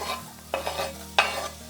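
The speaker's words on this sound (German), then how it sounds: "Jetzt den Pfannenboden gut mit Olivenöl bedecken. Und dann können wir auch direkt die Zwiebeln dazugeben." Onions sizzling in olive oil in a warmed pan, a soft continuous fry with a couple of sharp stirring scrapes, close and short, no voices.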